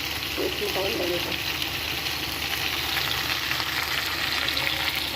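Onion pakoras fry in a little oil with a steady, crackling sizzle, a faint clink of a utensil early on, and a voice talking over the cooking.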